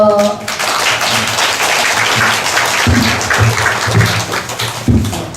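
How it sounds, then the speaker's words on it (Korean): Dense applause from a congregation fills a church ordination ceremony, steady and loud throughout with a few brief spoken words mixed in. "박수 해주세요."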